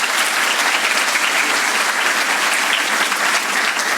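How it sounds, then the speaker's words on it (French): Steady, dense applause from an audience at a school fair, loud and continuous throughout with no voices standing out. "Et je vous demande de les applaudir,"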